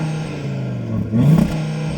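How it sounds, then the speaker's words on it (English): Audi RS3 five-cylinder with sports exhaust, idling then giving one short, sharp rev that swells and falls back within a moment, heard close and alone. "So go on, rev it up."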